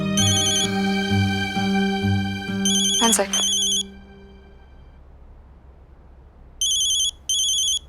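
A mobile phone rings with a bright, repeating electronic ringtone in short bursts, loud and close, cut off midway. After a pause the ringtone starts again briefly. A voice speaks a few words between the rings.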